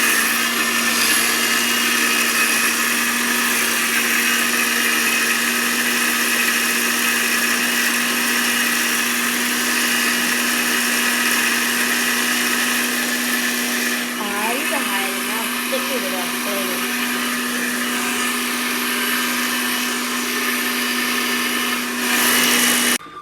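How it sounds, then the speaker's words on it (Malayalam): A mixer grinder runs in a home kitchen during panipuri preparation, giving a loud, steady whirring drone that holds for nearly the whole stretch and cuts off abruptly at the very end. "അങ്ങനെയാണ് ഞാൻ നോക്കി മിക്സി അടിക്കാം"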